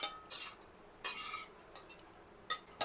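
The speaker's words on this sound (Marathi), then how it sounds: "पोहे एकदम हलक्या हाताने आपल्याला हलवावे लागतात तळापासून असे व्यवस्थित हलवून घ्यायचे" Poha with fried peanuts is stirred gently in a large kadhai, making intermittent scraping and clinking strokes of a spoon against metal, spaced out and fairly quiet.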